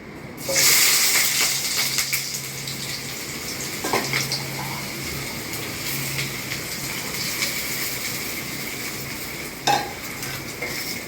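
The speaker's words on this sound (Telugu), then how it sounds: "మనం కాగిన ఆయిల్లో ఆనియన్స్ వేసుకోవాలి" Sliced onions hitting hot oil in a pan and frying with a steady, bright sizzle, loud at first then settling into continuous crackle, with occasional stirring scrapes.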